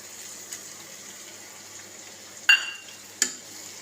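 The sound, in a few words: ivy gourd pieces frying in a pan with spice mix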